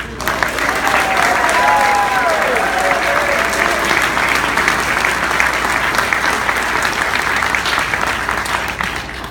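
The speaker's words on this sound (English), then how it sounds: "They deserve a special round of applause." A large audience at a country club community gathering gives a long, sustained round of applause, loud and even throughout, with a few voices calling out faintly over the clapping.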